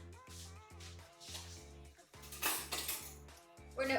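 A mixture with brown sugar being whisked in a bowl, quick rhythmic clinking and scraping of utensil against the bowl, close and fairly quiet, with a steady musical tone running underneath.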